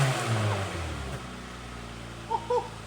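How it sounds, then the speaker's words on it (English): A flooded car's engine, with water still in the exhaust after sitting in a creek, revs loudly and steadily close by, then drops off, leaving a brief quieter gurgle and a couple of short spurts near the end. "Should I rev it? I think I should rev it up."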